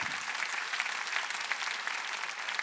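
A large church congregation at a Sunday revival service in an arena hall breaks into sustained applause, a dense, even roar of many hands clapping, heard alone and somewhat distant.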